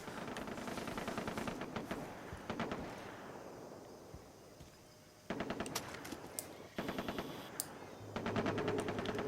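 Gunfire rattles through a Far Cry 3 combat scene as rapid automatic bursts, fairly loud and close, broken by a short lull before the shooting resumes in several fresh volleys.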